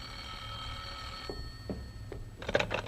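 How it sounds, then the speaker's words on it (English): An old-fashioned telephone bell rings in a vintage radio drama, several short bursts of ringing standing out clearly over a low steady hum, with no talking. "there's the phone"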